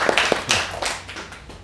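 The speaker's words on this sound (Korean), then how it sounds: "박수 한번 쳐주세요." A few scattered hand claps from a small audience at a school talk, sounding as sparse, uneven slaps that quickly fade rather than building into full applause.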